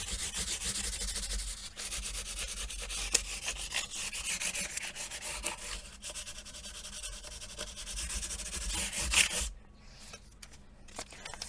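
Fine-grit sandpaper, around 600 grit, is rubbed over the fingerboard of a 1972 Guild F50 guitar in a continuous, close back-and-forth rasp. It runs for several seconds, then breaks off near the end, leaving quiet.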